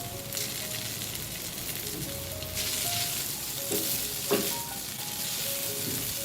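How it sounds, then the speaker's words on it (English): Noodles with celery stir-fried over a high flame in a non-stick wok, a steady sizzle and crackle with occasional scraping stirs of the spatula, close and continuous. "cooking in a non-stick wok, then increase the flame to a comfortable high and fry the noodles"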